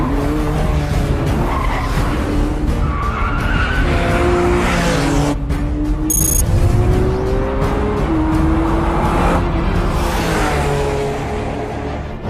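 A Lamborghini Aventador's rear-mounted engine revs hard toward the red line, its loud whine climbing in pitch through several rapid shifts with brief dips between them, close and with no talk over it.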